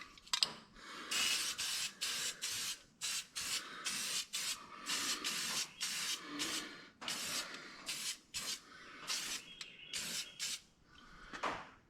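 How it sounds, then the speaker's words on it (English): High-temp powder coating sprayed onto a brake spindle from a drum-to-disc swap on a 1964 Mercury Cyclone, a close hissing spray in repeated short bursts separated by brief pauses. "it's time to put some high-end, high-temp powder coating on here"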